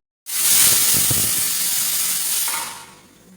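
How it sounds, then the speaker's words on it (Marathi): A pressure cooker on a small stovetop burner, cooking chicken biryani, lets out one loud, continuous hissing whistle of escaping steam that starts abruptly and holds steady for about two seconds before fading. "कुकरची एक शिट्टी झाली आहे"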